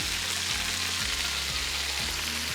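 Onion and chicken fry in a hot pan, giving a steady, close, continuous sizzle with a low rhythmic hum running underneath.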